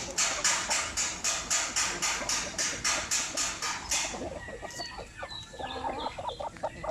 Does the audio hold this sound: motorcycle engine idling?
no